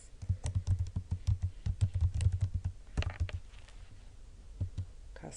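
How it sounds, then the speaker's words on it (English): Keys clatter on a computer keyboard in quick, uneven bursts of close clicks, easing into sparser taps toward the end, with no talking over them. "I'm going to type in Grace"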